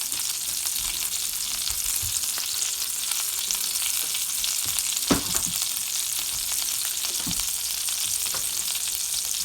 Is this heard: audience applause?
no